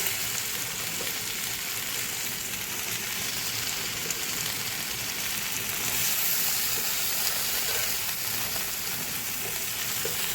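A fried fish head dropped into a hot pan of oil and spices sizzles steadily, a continuous bright crackle of frying with faint scraping of a spoon, no voices.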